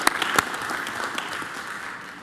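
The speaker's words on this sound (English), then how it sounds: "Let's give them a round of applause." Attendees at a city council meeting give a short burst of applause, with a few sharp claps up front settling into steady, moderate clapping that softens toward the end.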